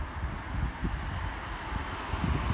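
Strong wind in Leersum, Netherlands, buffets the microphone in uneven low gusts, a continuous rushing roar with no voices.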